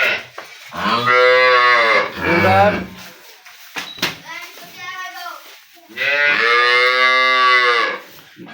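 A Holstein Friesian dairy cow moos loudly and close by in three long, drawn-out calls with short pauses between them.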